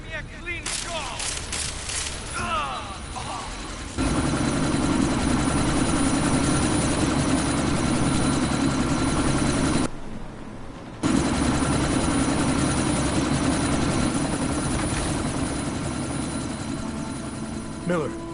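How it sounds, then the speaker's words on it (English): A helicopter taking off in Deus Ex: Mankind Divided, its loud steady rotor thrum and engine roar continuing for many seconds, briefly cut out midway, with gunfire bursts and voices at the start. "That chopper's about to take off!"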